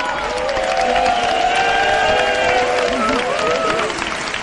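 Studio audience at a Radio Nacional de España broadcast applauds the technical team, a steady dense wash of clapping and crowd noise with a few voices cutting through over it.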